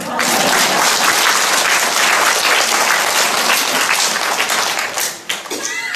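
Lively applause rises from the audience at a Catholic lecture, dense and loud, with rapid overlapping claps sustained for several seconds before dipping near the end.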